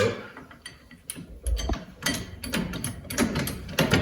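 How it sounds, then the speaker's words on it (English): A floor jack being pumped under the rear shock of a VW Jetta during a shock replacement, giving close mechanical clicks and ratcheting ticks with creaks and thumps at an uneven rhythm. "I got a floor jack under here. I'm going to put that under the shock"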